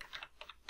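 Typing on a computer keyboard while writing VBA code, heard as short, quiet bursts of several key clicks in quick succession with brief gaps between, alone without talk.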